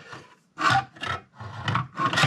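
A hand saw cuts through an aluminum axle for a solar electric bike trailer, giving about four loud rasping strokes in a steady back-and-forth rhythm, close up with short pauses between strokes.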